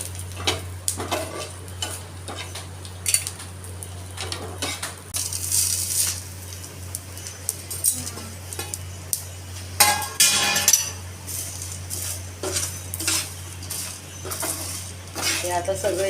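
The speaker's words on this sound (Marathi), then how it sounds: "हे आता सगळं एकत्र भाजलं मी." Ingredients are dry-roasted and stirred in oil on a griddle pan, with repeated metallic scrapes and clinks of a utensil over a low, constant sizzle.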